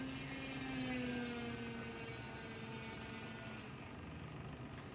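A steady droning propeller engine of an E-Flite 1.5m P-51D Mustang in the RealFlight 9.5 flight simulator, holding a continuous whine with a slight pitch drift, moderately loud and alone.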